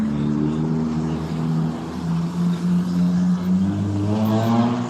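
Police cars left running unattended, their engines idling in a steady, close, continuous hum with slow shifts in pitch and no talk over it.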